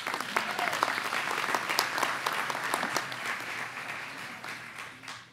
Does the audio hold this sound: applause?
yes